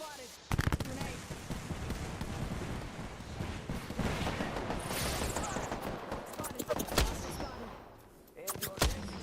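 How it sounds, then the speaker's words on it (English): Grenade blast and bursts of gunfire in Apex Legends ranked play, sharp close cracks and a booming explosion recurring through a dense, loud battle soundscape, with voices talking over the fighting. "Where'd that nade come from?"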